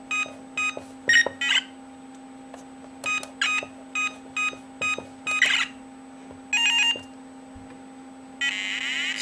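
A Vector multi mod airsoft timer bomb gives a string of short electronic beeps, single and doubled, in an irregular rhythm, then ends in a longer rapid warbling tone. It is close and loud over a steady electrical hum.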